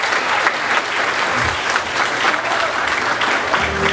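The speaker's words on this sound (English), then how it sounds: "I'd like to give a round of applause to them." Wedding guests at a reception at The Abbington in Glen Ellyn, Illinois, applaud in a dense, steady burst of clapping that carries on for several seconds, fairly close and loud.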